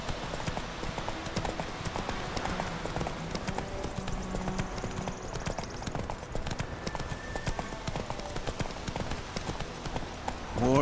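Hooves of a horse in The Witcher 3: Wild Hunt beat a steady galloping clip-clop under continuous game music and ambience, with a brief swell at the end.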